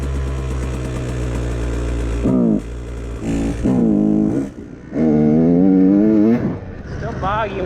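A KTM 150 XCW two-stroke dirt bike with a Lectron carburettor bogs as the throttle is blipped, its engine note rising and sagging unevenly over a rough idle, loud and close.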